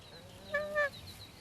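A nene, the Hawaiian goose, gives two short nasal honking calls in quick succession, faint and somewhat distant against a quiet outdoor background.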